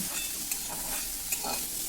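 Cauliflower florets sizzle steadily in hot oil as they finish frying for a katla fish curry, with a few soft scrapes and clinks as pieces are lifted out. No one speaks.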